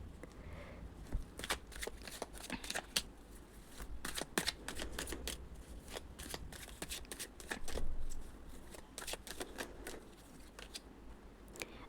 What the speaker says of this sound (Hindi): उसके पहले हम सारे कार्ड निकाल लेते हैं।